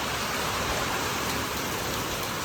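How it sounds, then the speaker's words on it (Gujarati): Heavy unseasonal summer rain pours down in a steady, dense hiss, close and constant, with no voices. "આવો વરસાદ તો પહેલો ચોમાસામાં નથી આવતો"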